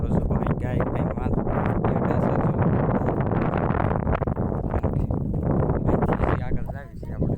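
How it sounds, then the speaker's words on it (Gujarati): Strong wind buffets the microphone outdoors near a jungle temple, a continuous rough rumble under ongoing talk. "અહીં પવન બહુ આવે છે એટલે અવાજ ઓછો આવતો હશે"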